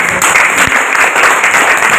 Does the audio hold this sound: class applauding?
yes